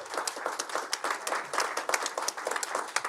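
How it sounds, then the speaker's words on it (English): Audience applause at a Maryland governor's announcement on Pimlico Racecourse and the Preakness Stakes, a steady mid-level patter of many hands clapping with some voices underneath for about three seconds. "Yeah, we can applaud on that one."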